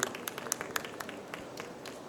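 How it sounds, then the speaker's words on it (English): Scattered, moderately faint clapping from a conference audience welcomes a speaker onto the stage at a talk on AI vision technology in factories. Individual claps stand out against a soft room background. "Let's give a warm round of applause"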